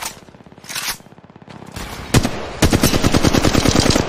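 A weapon fires in Apex Legends Mobile, starting with scattered shots and breaking into a loud, sustained automatic burst of rapid, evenly spaced rounds.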